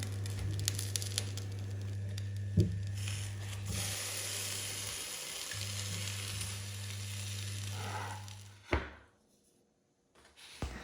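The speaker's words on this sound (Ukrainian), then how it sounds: "Викладаємо лаваш на суху розігріту сковорідку та смажимо на середньому вогні до золотистої скоринки" Lavash flatbread sizzles in a dry pan over medium heat, a soft steady crackle with a few clicks and scrapes, before a sharper clatter and near silence.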